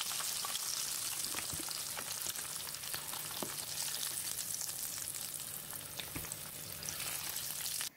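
Pieces of duck fry in hot oil, a dense steady sizzle and crackle with scattered sharp pops, close and fairly quiet, running unbroken with no voices until it cuts off at the very end.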